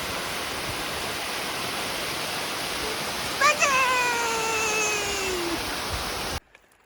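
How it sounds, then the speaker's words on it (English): Jones Falls on the Appalachian Trail pours in a steady, full rushing roar, joined midway by a brief high animal whine, before the sound cuts off abruptly. "So Jones Falls, you can see, super pretty"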